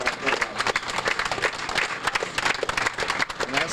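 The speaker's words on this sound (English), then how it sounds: "Let's have a round of applause for our new" Applause from a gathered group at a petty officer indoctrination ceremony in Bermuda, dense, lively clapping with a quick irregular rhythm, fairly close and continuous throughout.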